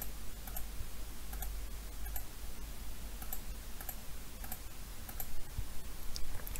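A computer mouse clicks in short, evenly spaced taps at close range, quiet and alone, over a soft background hiss.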